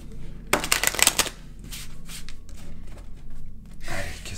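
Tarot cards are shuffled by hand: a brisk, close riffle near the start, softer rustling sliding in between, and another short shuffle at the end.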